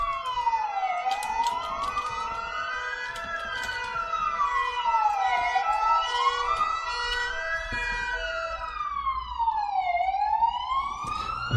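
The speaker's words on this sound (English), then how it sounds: "Here, ambulance is going all the time." An ambulance siren outside wails continuously in slow rising and falling sweeps, loud and steady, with no talking.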